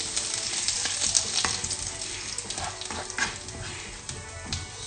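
Butter melts and sizzles in a hot pan, a steady loud frying crackle with scattered pops and light stirring clatter, no talking.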